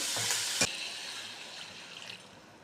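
Chicken pieces frying in a pan with salt and water, a broad close sizzle with a sharp stir or scrape near the start, then a steady softer hiss that fades slightly.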